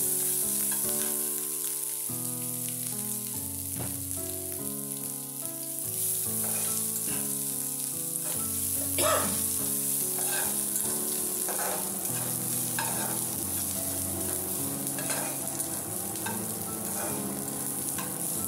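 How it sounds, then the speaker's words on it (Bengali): Chopped ginger fries and is stirred in hot oil for Bengali musur dal, a continuous crackling sizzle sitting under steady, prominent background music. "আদাটাকে একটু ভালো করে ভাজতে হবে"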